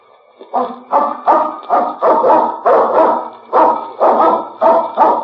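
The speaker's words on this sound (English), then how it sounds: "That must be the dog you told us about." A dog barks repeatedly and loudly up close, about ten sharp evenly spaced barks in quick rhythm, standing alone against silence.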